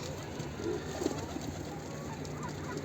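Pigeons cooing in a rooftop coop, a soft, low, steady murmur of coos with a faint outdoor hiss around it and no talking.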